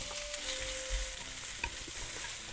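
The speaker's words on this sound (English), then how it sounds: "I'm gonna first put in the onion, carrot, and also the mushroom," Onion, carrot and mushroom fry in hot oil in a pan for Japanese-style japchae, giving a steady, close sizzle with occasional stirring scrapes and no voices.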